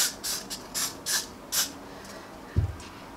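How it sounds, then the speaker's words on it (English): Got To Be glue spray misted onto hair in a series of about five short, close hissing bursts with brief pauses, followed by a soft thump near the end. "I'm gonna spray it one more time."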